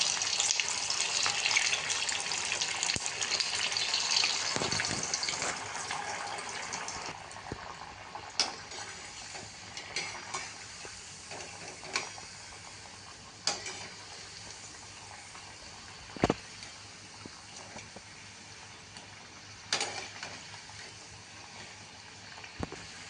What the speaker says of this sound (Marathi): आता तेलामध्ये वड्या सोडून आपण डीप फ्राय करून घेऊ